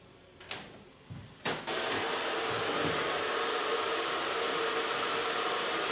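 A hair dryer blow-dries freshly permed hair; after a few brief knocks it switches on into a loud, steady rushing whoosh that runs to the end.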